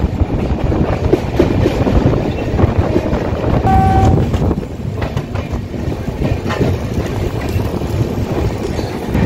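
Shantiniketan Express running at speed past Liluah out of Howrah, a loud steady rumble of wheels and carriage noise throughout, with a brief horn-like tone midway.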